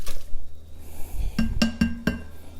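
Pickled peppers are dumped into a glass blender jar, giving several sharp clinks and knocks in quick succession near the end, loud and close, after a stretch of softer handling noise.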